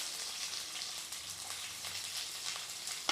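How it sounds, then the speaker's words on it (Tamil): Chopped onions sauté in hot oil for sambar, giving a continuous, even sizzle, close up and steady for a few seconds with no talking. "இந்த வெங்காயம் பச்சை வாசம் போகிற வரைக்கும் நல்லா வதக்கிடலாங்க"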